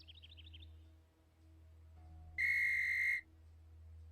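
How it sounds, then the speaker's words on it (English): In the video game Ankh 3, a whistle with a ball inside gives one short, bright, steady blast, loud against a quiet low hum, after a faint trilling chirp at the start. "So now I have a whistle with a ball in it."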